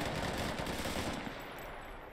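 Video-game gunfire on a campaign mission involving a tank blasts as a dense, continuous burst of automatic shots, loud and close throughout with no talking.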